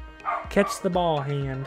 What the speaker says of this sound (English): that's my dog that you're hearing